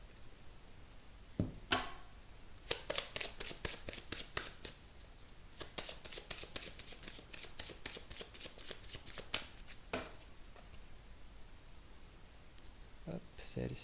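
Tarot cards being shuffled close by in a long run of crisp, rapid riffling bursts with short pauses between them, and a few isolated card snaps and taps at the start and end.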